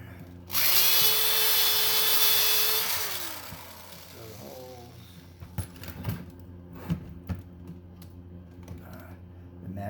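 A power drill whirs loudly for a few seconds while drilling out a rivet in metal, its motor pitch steady before winding down, followed by scattered clicks and light metallic taps.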